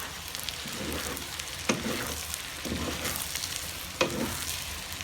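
Egusi sizzling and frying in a pan while it is stirred, a steady close crackle with scraping stir strokes every second or so, no voices.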